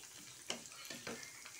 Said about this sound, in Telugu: సో వెల్లుల్లి ఫ్రై అవుతున్నప్పుడు మనం ఇప్పుడు తాలింపు గింజలు వేసేస్తున్నాం